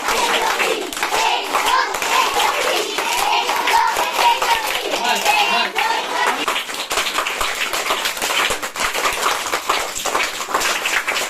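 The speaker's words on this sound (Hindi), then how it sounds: "अब ऐसे ताली बजानी है" Children in a classroom game clap their hands together, a dense, continuous patter of many claps close by, with kids' voices mixed in.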